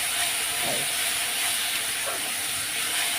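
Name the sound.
masala frying and sizzling in a pan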